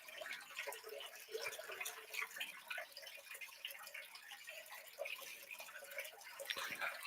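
Faint, continuous trickling and splashing of pumped water pouring across a Miller table during gold recovery, steady throughout with small scattered drips and no talking.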